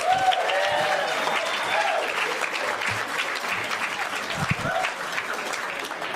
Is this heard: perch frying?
no